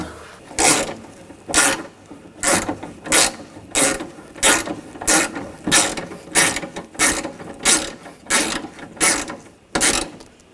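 A ratchet wrench snugs down window regulator bolts on a 2000-2006 BMW X5 front door, giving a steady run of about a dozen loud, close, evenly spaced ratcheting strokes with no talking.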